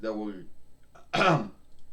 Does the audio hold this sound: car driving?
no